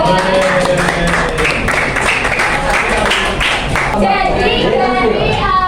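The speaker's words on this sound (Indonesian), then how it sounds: "Oke, tepuk tangan untuk kelompok 2." Classroom clapping for a student group, a loud close burst of many hands applauding together, dense and continuous, with children's voices mixed in.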